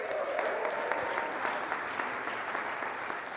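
Live audience applauding at a winter speaker series event, a steady, dense wash of clapping from a crowd that holds at an even level for the whole few seconds, with no voices over it.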